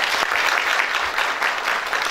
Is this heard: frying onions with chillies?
no